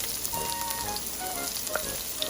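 Chopped onion and garlic fry in a pan with a dense, steady sizzle and faint popping, close and even throughout, no voices.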